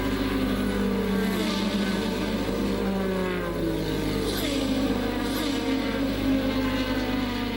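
Formula 1 engines drone steadily at the 1985 Austrian Grand Prix during a quick pit stop for four new tyres, one car's note sliding down in pitch amid continuous racing noise.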